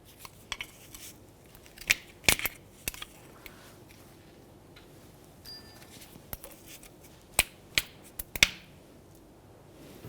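A trim tool pries plastic clips free around a 2003-2011 Mercury Grand Marquis upper control arm, giving sharp, scattered snaps and clicks over a quiet background.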